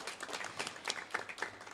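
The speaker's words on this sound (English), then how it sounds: "A big round of applause, please" Audience at a debate competition applauding, dense overlapping claps heard faintly and at a distance, steady for under two seconds.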